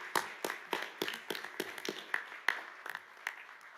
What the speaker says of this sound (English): we want to say thank you and give you a round of applause.